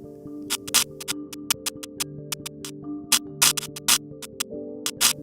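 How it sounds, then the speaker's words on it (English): Radio waves from lightning on Saturn, recorded by the Cassini spacecraft and converted to audio, come through as irregular sharp crackles and clicks in clusters over a faint steady hum. "the sound you are hearing is actually the radio waves produced by the lightning converted to audio"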